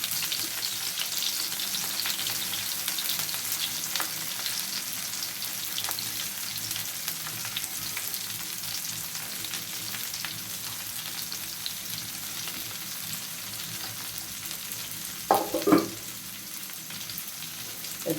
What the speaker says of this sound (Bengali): আমি এগুলোকে এখন একটু উল্টে পাল্টে দেবো, একটু গোল্ডেন কালার করে ভেজে নেব।